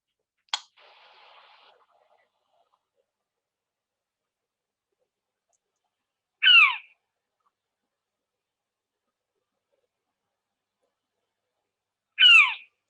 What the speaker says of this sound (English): You're out at night and suddenly this bird starts calling.